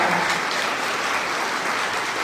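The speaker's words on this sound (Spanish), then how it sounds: "Felicitamos con fuerte aplauso" Audience at a graduation ceremony clapping for new administration and software development graduates: dense, steady applause throughout, loud and sustained without a break.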